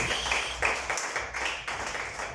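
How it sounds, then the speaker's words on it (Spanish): A church congregation claps together in a dense, steady wash of applause at moderate loudness, with no voices standing out. "Denle un aplauso fuerte a Dios en este día."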